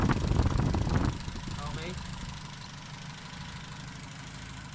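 A car engine that has been running for a while and is spraying oil from the dipstick tube idles with a steady low rumble, louder at first and then settling, with a voice speaking briefly.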